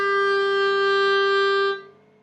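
A clarinet holds a single high A, a steady pure tone sustained for nearly two seconds before cutting off and fading into quiet room sound, close and solo.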